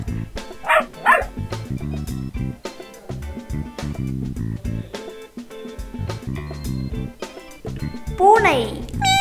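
A dog gives a couple of yapping barks early on and again near the end, over a bouncy music track.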